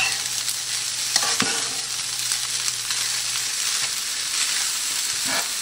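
Fried rice cooking in a pan sizzles steadily at moderate volume, with occasional stirring scrapes and clinks throughout.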